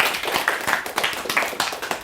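Short burst of audience clapping at an indoor church gathering honoring a guest professor, a dense patter of individual claps close to the microphone, loud and brief with no talk over it.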